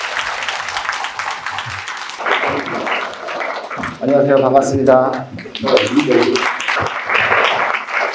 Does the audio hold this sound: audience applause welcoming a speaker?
yes